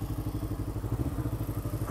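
A Kawasaki Ninja motorcycle engine thrums with a steady, fast pulsing beat, close and fairly loud, heard alone over a short stretch.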